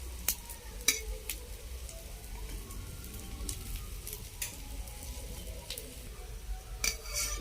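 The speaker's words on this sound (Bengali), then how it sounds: "উল্টে পাল্টে চারিদিক ভালো করে ভেজে নেব।" Fish roe fritters fry in hot oil with a steady hiss while they are turned in the pan, marked by occasional sharp clinks of a utensil against metal.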